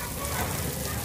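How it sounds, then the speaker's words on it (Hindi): Light drizzling rain falling outdoors in the rainy season, a soft, even patter of drops across the brief moment with no voices. "बट अभी फिर बारिश हो रही है, रिम झिम रिम झिम"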